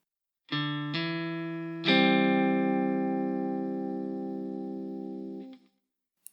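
Clean electric guitar notes ring out in a short phrase, a few quick plucked and hammered-on attacks leading into a sustained chord that fades after several seconds.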